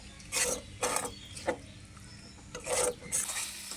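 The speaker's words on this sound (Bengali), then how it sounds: "এখন মশলাটাকে ভালো করে কষিয়ে নেব।" A spatula scrapes a pan while spice paste fries for a loitta dried-fish curry with potatoes, several short rasping strokes in an uneven rhythm over a low sizzling bed, fairly soft and close.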